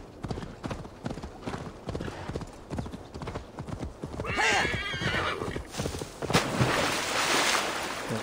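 Horse in Assassin's Creed Valhalla, hooves clip-clopping in a quick steady gallop, then a loud neigh midway, with rushing ambient noise building toward the end.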